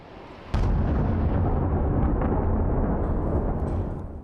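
A missile strike on Tel Aviv lands with a sudden heavy blast, followed by a loud, sustained low rumble that slowly fades over several seconds.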